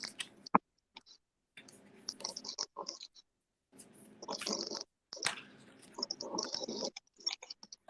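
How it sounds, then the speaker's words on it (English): Oracle cards are shuffled by hand in short bursts of scratchy riffling and clicking, broken by brief pauses, close and fairly quiet. "I'm just going to shuffle my oracle cards"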